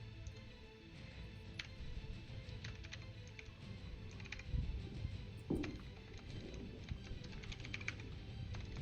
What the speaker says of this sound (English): Why am I typing there?